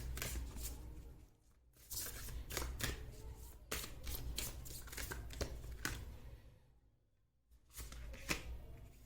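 Tarot cards are shuffled by hand in repeated bursts of crisp riffling and flicking, close and fairly quiet, with brief pauses between rounds and no talk.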